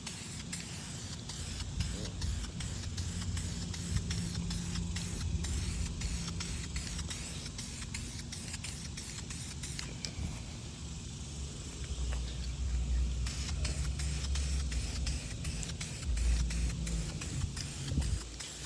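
An aerosol can sprays black dye onto the carpet inside a Honda EK coupe, a steady close hiss in back-and-forth passes with faint clicks and a low background rumble throughout.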